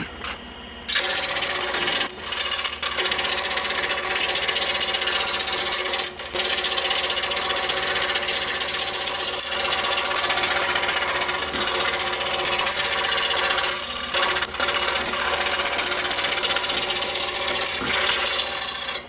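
Scissors cut around the edge of a paper wheel for a homemade fraction calculator, giving a steady close rasping and crunching that runs almost unbroken, with a few brief pauses where the blades reposition.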